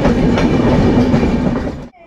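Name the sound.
Vande Bharat train running on rails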